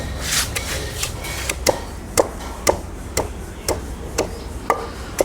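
Steady wooden thuds of a wooden pestle pounding chutney in a bowl, about one knock every half second, close and crisp with a faint rubbing grind between strikes.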